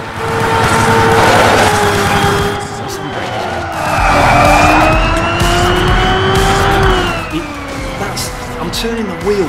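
Engine whine and tire skidding from a car drifting in the racing video game Xenon Racer, a steady loud roar with rising and falling pitch as the car slides, with someone talking over it.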